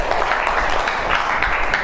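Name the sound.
applause for a classmate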